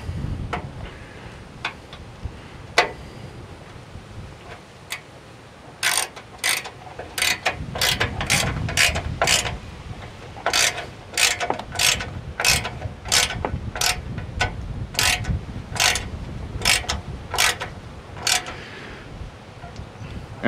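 A ratchet tightens bolts on a prerunner-style bumper bar on a Ford Bronco Badlands, with a run of crisp, close clicks in quick regular bursts after a few scattered early ticks over faint background noise.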